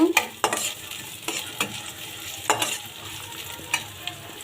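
Chopped onion fries in oil under a soft, steady sizzle, broken by intermittent scraping and clinking from stirring in the pan, with no talking.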